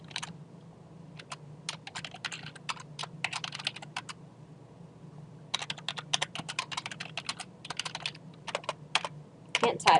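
Computer keyboard keys clatter in uneven bursts of quick taps across the whole stretch, steady and fairly close, pausing briefly between runs of typing, with faint background hum and no voices.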